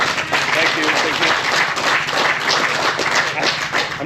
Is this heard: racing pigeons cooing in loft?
no